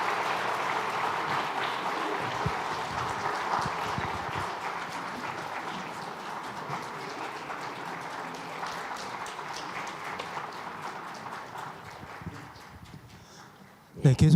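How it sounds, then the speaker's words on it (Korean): A church congregation claps together in a sustained, dense round of applause at a Sunday worship service. The clapping stays steady for about thirteen seconds, then thins and fades, with a sudden louder burst at the very end. "축하하며 박수해 주시기 바랍니다."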